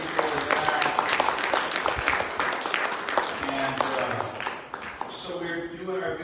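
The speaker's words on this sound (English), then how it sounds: "Let's give a round of applause to all the ladies from the church" A church congregation applauds for the women who served a meal, dense clapping that fades toward the end while a voice talks over it.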